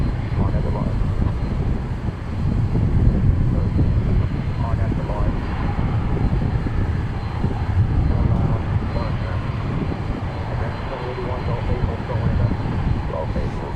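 A plane takes off from runway 18 Left at DFW Airport, its engine roar rumbling loud and steady from a distance throughout with broadband wind-like noise and no voices.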